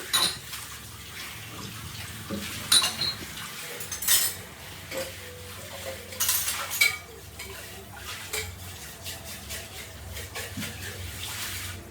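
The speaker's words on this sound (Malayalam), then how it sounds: "കുറേ പാത്രം കഴുകാനുണ്ടായിരുന്നു അതിനെയൊക്കെ ഇതാ കഴുകിയെടുക്കുക" Dishes and utensils are washed at a kitchen sink, with repeated clinks and clatters of metal pots and cutlery. A low wash of water runs underneath, close and uneven in rhythm.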